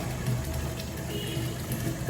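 Water pours into a 20-litre can at a coin-operated purified drinking water dispenser, a steady, fairly quiet gushing stream with a faint pump hum underneath and no voices.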